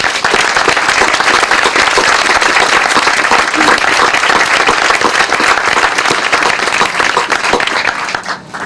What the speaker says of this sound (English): Johnson, Ed Hart, Ed Hooper, and Bob Clark deserve a big round of applause for their commitment.